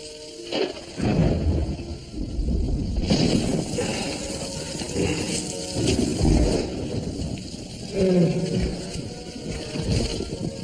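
A thunderstorm with rain rolls on in the animated film Dinosaur (2000), Portuguese dub. Heavy, rumbling thunder surges repeatedly over a steady wash of rain and wind, loud and continuous.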